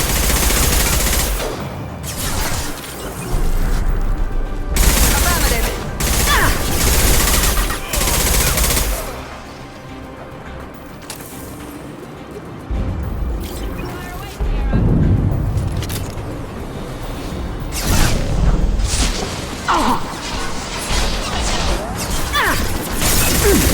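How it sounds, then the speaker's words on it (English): Weapon fire in Mass Effect 2 combat: repeated loud, close gunshot bursts and impacts in uneven clusters, with crashing debris and brief lulls between volleys. "Firing a high-impact shot."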